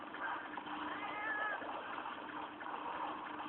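A cat meows in the video game Monster Hunter 3 Ultimate, giving a couple of short, fairly faint mewing cries over a watery background wash.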